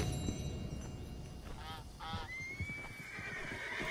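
A horse whinnies in Red Dead Redemption 2, a couple of rising, wavering neighs followed by a long, thin high call, heard over a steady outdoor background with soft hoof-like thuds.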